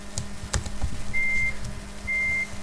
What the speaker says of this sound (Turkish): geri vites sesi olsun diğerleri çalışıyor